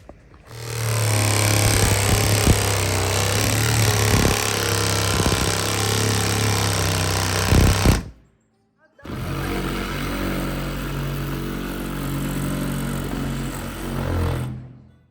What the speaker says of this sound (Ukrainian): Ми маємо ось таку пилу, і нею ми зараз будемо підрізати двері